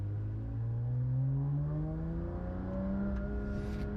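A Manthey Porsche GT3 RS with a titanium GCR exhaust accelerates hard on the Nordschleife, its engine note climbing steadily and smoothly, loud and close from inside the car.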